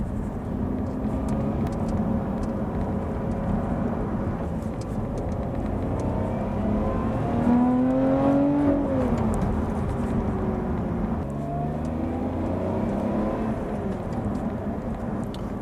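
A responsive car driving on the road, its engine humming steadily with a brief rising rev as it accelerates midway, heard from inside or nearby at moderate level with faint background noise and no talking.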